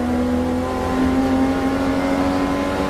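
Pre-'93 touring race cars at Silverstone heading toward Brooklands, a loud, steady engine drone with a strong sustained pitch, close and continuous throughout, with no talking.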